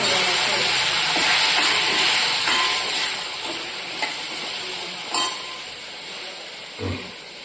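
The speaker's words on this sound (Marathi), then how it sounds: "हे धुण्या धण्याचं कूट टाकते छान असं तळून घेते" Ground coriander and brinjals frying in a pan, a loud bright hissing sizzle that fades a little over time, broken by a few soft knocks of stirring.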